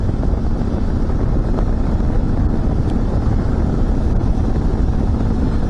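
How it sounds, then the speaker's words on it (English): Heavy, continuous wind buffeting on a microphone while riding a 2007 Suzuki V-Strom motorcycle on a cool day, a loud low roar that stays steady throughout with no speech. "You get a lot of wind on this bike."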